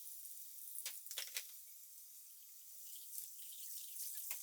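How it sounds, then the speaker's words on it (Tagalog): Running water pours steadily into a kitchen sink as dishes are washed, faint and hissing, with a few soft splashes and clinks, and no one speaking. "inasikaso ko na muna itong mga hugasin"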